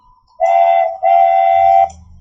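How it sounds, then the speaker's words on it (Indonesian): A train whistle sound effect plays in the Scratch programming environment: two loud, clean whistle blasts, a short one followed by a longer one, with a faint rumble underneath at the end. "misalkan suara ini saya klik suara kereta"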